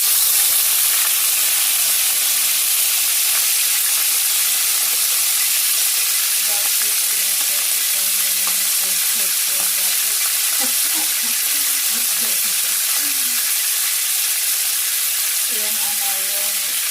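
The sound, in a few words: chicken thighs frying skin-side first in oil for adobo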